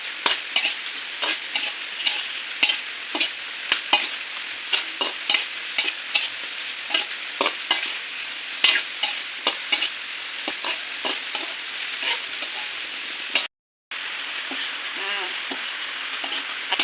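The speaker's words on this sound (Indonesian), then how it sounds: "Kita aduk seperti ini teman-teman ya" Marinated chicken for ayam goreng ungkep sizzles in a pan while a spatula stirs it in regular scraping strokes over the continuous frying hiss, with a brief break near the end.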